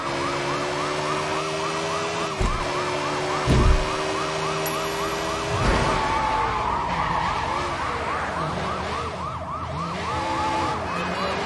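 Police sirens wail steadily in the Sleeping Dogs video game, with a few sharp thuds and tyre skids cutting through, the wailing loud and close throughout.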